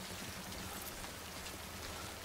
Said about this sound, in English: We gotta get out of this rain.